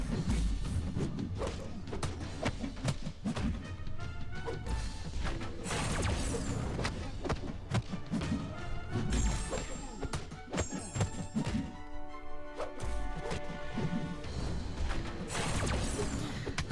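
A special attack fires in Marvel Contest of Champions during Sentry gameplay: a dense run of heavy thunks, crashes and swooshes with ringing tonal effects, continuous and loud, with a voice occasionally underneath.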